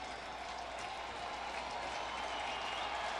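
A baseball crowd roars steadily at a 2009 Mets–Cardinals game in St. Louis, with two outs and the bases loaded as the Cardinals trail; the dense, sustained cheering and clapping fills the whole stretch without a break.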